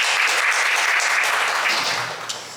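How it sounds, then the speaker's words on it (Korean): An audience at a Seoul social economy policy forum claps to welcome the Yeongdeungpo network chairman, a dense, steady wash of applause that tapers slightly near the end, with no speech. "박수로 환영해 주세요."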